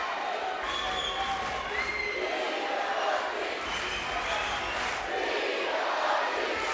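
Spectators at the Tel Aviv Grand Slam 2022 judo final raise a sustained crowd roar and cheer for Palchik's first attack, a dense arena wash of voices that holds steady throughout.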